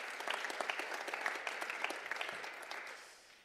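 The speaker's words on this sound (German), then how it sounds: "da darf man klatschen." Conference audience applauding in a hall, a steady wash of many hands clapping at moderate distance, holding for a few seconds before tapering off, with no voices over it.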